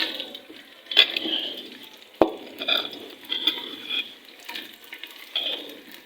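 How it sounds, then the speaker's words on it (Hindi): Onions added to hot ghee in a cooking pot give soft, uneven sizzling and stirring scrapes that rise and fall, with a sharp clink of metal partway through; no voices. "तो अपनी हांडी के अंदर मैंने डाल दिया है घी और इसके अंदर डालते हैं हम प्याज।"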